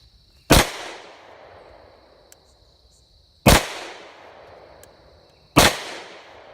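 A CZ 52 pistol fires 7.62x25 rounds in three sharp, loud, close cracks spaced a few seconds apart, each followed by a short decaying echo, with quiet between shots.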